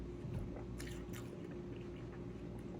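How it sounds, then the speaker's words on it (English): Someone bites into and chews cold watermelon close to the microphone, producing soft wet squishes and crunches over a steady low hum, with no talking. "But I'm eating my watermelon while I wait."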